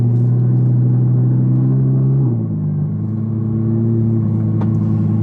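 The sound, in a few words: Audi R8 supercar with loud Quicksilver valved exhaust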